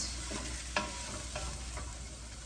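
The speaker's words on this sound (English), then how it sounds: "we're gonna saute those up in our pan for about 2 to 3 minutes until they get nice and soft" Chopped celery and onion sauté in a hot pan for a spaghetti bolognese, with a steady soft sizzle and a few sharp stirring scrapes, close and with no talk.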